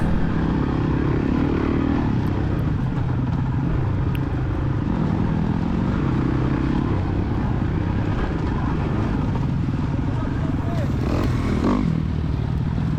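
Kawasaki KX450 dirt bike passing during a motocross race, a loud continuous engine drone that swells and fades against the steady roar of the rider's own Suzuki DRZ400E, with no clear talking.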